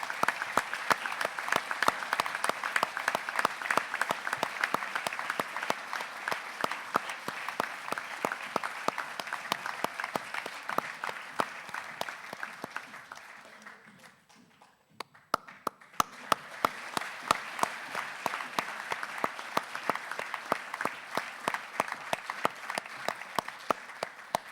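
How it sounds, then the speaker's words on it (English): A small graduation ceremony audience claps steadily and fairly loudly for an award winner. The applause fades out, there is a brief lull, and then the clapping picks up again. "we've got to keep these claps going"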